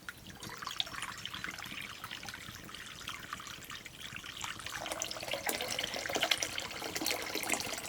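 Water runs steadily from a tap in rural Nepal, a continuous close splashing stream that grows a little brighter and louder toward the end, with no talking.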